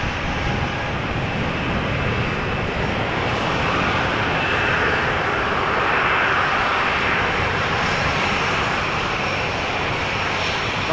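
A Transavia Boeing 737 airliner takes off at Amsterdam Schiphol, its jet engines a loud, steady broadband roar that holds throughout and swells slightly midway.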